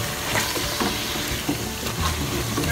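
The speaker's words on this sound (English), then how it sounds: "I'm going to stir again." A pot of Nigerian efo riro vegetable soup being stirred, a dense bubbling sizzle with repeated scraping and clattering spoon strokes, close and loud, no speech.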